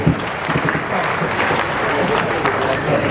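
A crowd at a speech in Dar es Salaam breaks into sustained applause, loud and close, a dense steady patter of many hands clapping throughout with no pauses.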